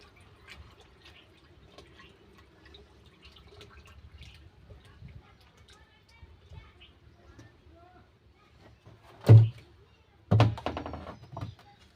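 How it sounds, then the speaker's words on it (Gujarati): Cow urine splashes and pours into a container of calotropis fertilizer mixture in two short, loud bursts near the end, after a long stretch of quiet background murmur. "આપણે ઉમેરીશું આમાં ગૌમૂત્ર"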